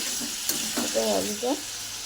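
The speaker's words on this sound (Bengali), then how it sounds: "এখন এখানে আমি কষিয়ে নিচ্ছি সুন্দর করে" Curry sautéing in a pan, a steady sizzle with brief scraping stir strokes over about two seconds, close up, with no talking.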